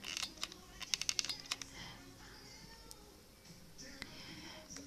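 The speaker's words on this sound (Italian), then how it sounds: "Questo gattino." A kitten meows faintly and briefly indoors during a hot-glue crafting session, mixed with a flurry of light clicking taps and soft background noise.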